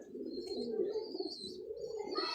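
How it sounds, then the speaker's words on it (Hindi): Ferozpuri pigeons, including a large male, coo in a low continuous rolling drone, close and steady, with a few faint higher chirps on top. "ये बड़ा नर कबूतर है जी"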